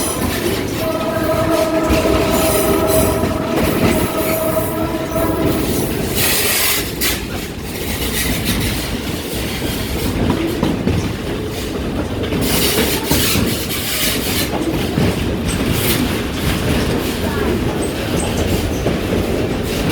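A train runs steadily on the Stone Mountain Railroad, its wheels clattering loud and close and continuous throughout, with a sustained horn-like tone early on.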